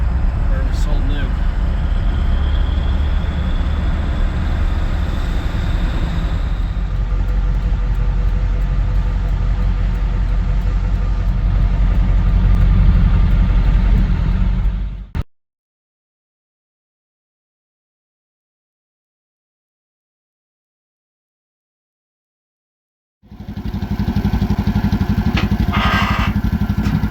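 A 1958 John Deere 420V high-clearance tractor engine runs with a steady low rumble for about fifteen seconds, cuts to silence, then resumes just as loud near the end.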